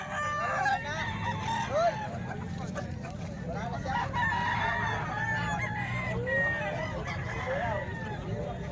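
Several roosters crowing repeatedly among many chickens at a poultry sale in Calumpit, overlapping calls near and far with clucking, while someone talks throughout.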